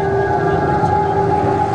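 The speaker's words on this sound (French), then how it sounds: "Très vite, une ambulance arrive sur les lieux." A steady, loud, continuous ambulance siren tone holds throughout with a dense background rumble.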